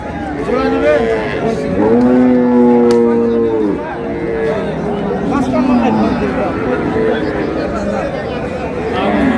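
A cow and her calf at Ambari cattle market low repeatedly, with long drawn-out moos rising over the busy chatter of the crowd, close and loud.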